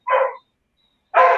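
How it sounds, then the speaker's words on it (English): Two loud, close dog barks with a short gap between them, sharp and alone over an otherwise silent background. "I apologize for the dogs."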